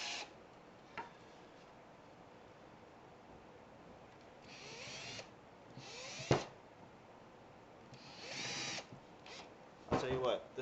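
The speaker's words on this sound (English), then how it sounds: "We're going to drill these holes real quick" A power drill bores holes into a wooden cigar box guitar neck, in several short whining bursts separated by pauses, with a quieter burst at the end.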